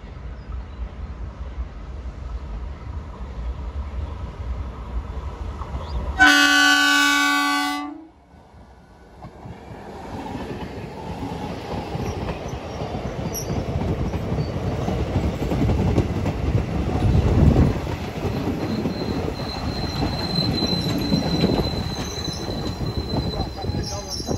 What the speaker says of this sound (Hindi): फाइनली ट्रेन भी आ चुकी है, हॉर्न तो सुनाई दे रहा है